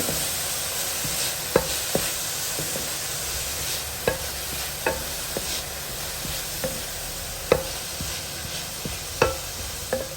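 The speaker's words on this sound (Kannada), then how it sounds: "ಅದು ಸ್ವಲ್ಪ ಹಸಿ ವಾಸನೆ ಹೋಗೋವರೆಗೆ ಅದನ್ನು ಫ್ರೈ ಮಾಡ್ಕೊಳ್ಳೋಣ" Green chili, ginger and garlic paste frying in a pan for aloo kurma, with soft sizzling throughout and sharp clicks of a spoon stirring against the pan at irregular intervals, close up and with no voices.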